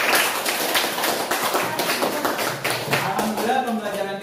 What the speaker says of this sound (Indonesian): ayo kita berikan tepuk tangan untuk kita semuanya.